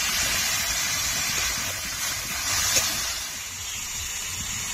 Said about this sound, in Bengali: মাংসটা কিছুক্ষণ ভেজে নেব।